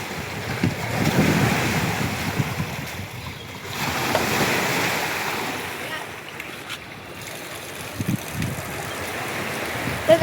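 Sea waves at the Worli seafront, a broad, steady wash of surf mixed with wind noise on the microphone, with a few soft thumps and no clear speech.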